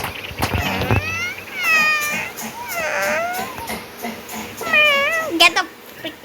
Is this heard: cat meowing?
yes